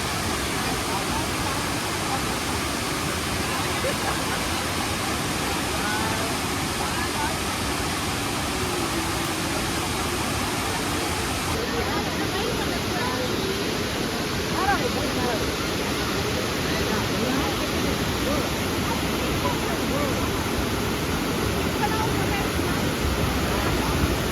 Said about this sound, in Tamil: இந்த இத்தாக்கா ஃபால்ஸோட ஹைட் வந்துட்டு பார்த்தீங்கன்னா 150 அடி உயரம்ங்க.